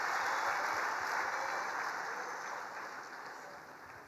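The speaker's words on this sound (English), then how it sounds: "So a big round of applause for CBZ in assisting us in that regard." Audience at a football cup launch event applauds CBZ Bank with a soft, continuous wash of clapping that sounds somewhat distant and gradually fades.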